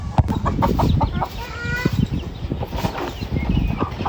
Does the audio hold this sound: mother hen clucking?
yes